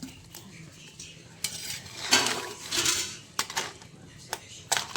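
Potato pieces added to a simmering spiced mixture in a cooking pot and stirred, with close clatters and scrapes of a metal spoon against the pan, sharp knocks and a soft sizzle underneath in an irregular rhythm.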